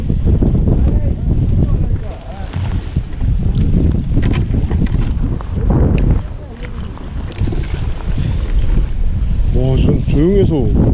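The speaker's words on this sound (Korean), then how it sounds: "경유 엔진이 아니고 가솔린 엔진" The low, steady hum of a small fishing boat's quiet gasoline engine runs continuously under strong wind buffeting on the water off Anmyeondo in Taean, with a voice heard briefly.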